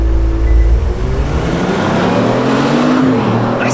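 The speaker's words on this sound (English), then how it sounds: "Nice sounding engine." A 2018 Kia Stinger GT engine roars hard under launch-control acceleration from a standstill, its pitch climbing through a gear before dipping and rising again, loud and close from inside the car.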